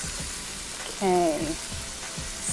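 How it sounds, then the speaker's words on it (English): Pork for adobo browns in a hot pan with a steady, close crackling sizzle and occasional stirring scrapes, while a brief spoken word is heard over it. "sizzle, just what we want. And as that meat browns, keep it turning."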